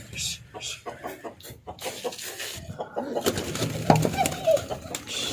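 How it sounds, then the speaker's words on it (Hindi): Roosters cluck and call amid cooing pigeons, with voices talking over the busy, close barnyard noise. "ये वाले मुर्गे जिनकी आवाज आ रही है"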